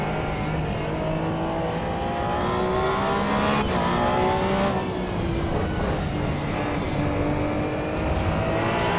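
Race car in the Assetto Corsa EVO sim on a Spa 24-hour run, its engine droning steadily with shifting tones as ABS pulses under braking and tires near their limit, loud and continuous throughout.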